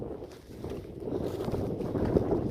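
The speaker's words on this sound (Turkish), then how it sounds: "Esiyor püfür püfür maşallah." Gusty wind buffets the microphone on a mountain summit near farm fields, a rough low rumble that swells and stays loud throughout.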